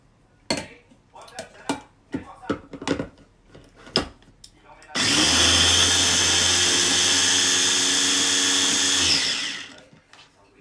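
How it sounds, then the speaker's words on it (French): A food processor whirs steadily for about four seconds, a loud close motorized roar chopping ingredients for a lemon cake, preceded by scattered clicks and knocks as the machine is handled. "je pense que je vais devoir hacher beaucoup plus que ça"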